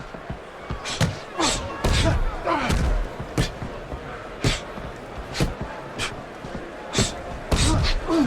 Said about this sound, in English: Excellent hook to the head by Boom Boom.